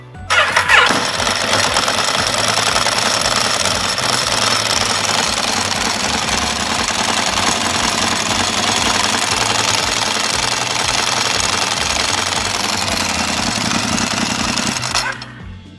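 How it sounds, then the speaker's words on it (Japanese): A motorcycle fitted with an STM Evoluzione slipper clutch starts up and settles into a steady, loud, close idle with a rattling mechanical clatter, running alone without talk until it cuts off. "ちょっとエンジンかけてみようかな。"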